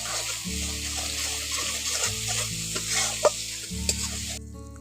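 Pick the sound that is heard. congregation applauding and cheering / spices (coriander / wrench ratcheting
spices (coriander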